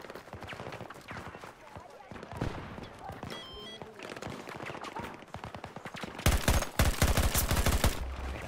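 Rapid automatic gunfire in the shooter game Battlefield 2042, dense bursts of shots throughout with a louder volley near the end, under excited player chatter.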